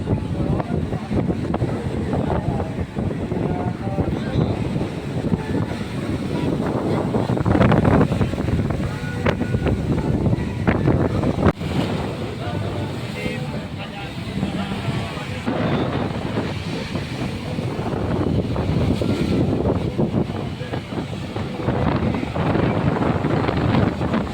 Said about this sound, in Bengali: তোমরা একবার ঢেউটা দেখো জাস্ট অসাধারণ আর হাওয়া প্রচুর হাওয়া